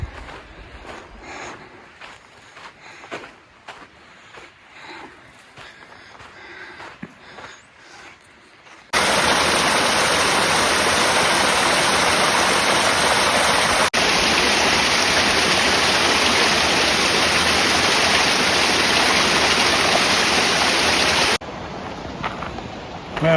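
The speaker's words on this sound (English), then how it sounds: "I can hear the water running down to my left from Dripping Springs." Water running steadily down a stream below Dripping Springs on a desert mountain trail, a broad continuous rushing that swells in loudly partway through and holds close and strong before easing back to quieter outdoor ambience.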